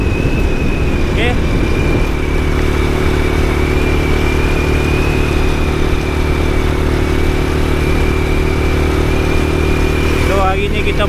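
A motorcycle being ridden to a riverside fishing spot gives a loud, steady engine drone with heavy wind rumble, close up throughout, briefly shifting in pitch near the end.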